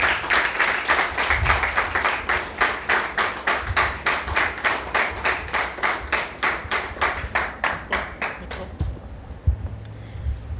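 Audience applause welcoming a female guest onto a television talk show set, a steady run of claps for about nine seconds that fades out, followed by a quieter pause with a few low thumps.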